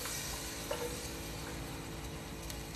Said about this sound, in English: scrape up any bits that you have, even some bits on the side